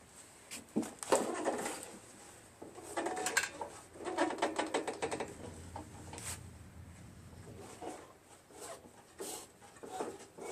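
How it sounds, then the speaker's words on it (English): The auger of a Craftsman 5.5 HP 26-inch OHV snow blower turns as its drive belt is moved by hand, giving irregular close ratcheting clicks, creaks and scrapes in short bursts. "When I move the belt, the auger turns."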